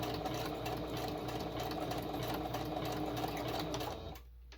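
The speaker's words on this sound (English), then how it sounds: "I'm going to just back stitch it here so it's nice and secure." Sewing machine back stitching a journal page: a steady, close mechanical whir with rapid regular needle clatter that winds down and stops near the end.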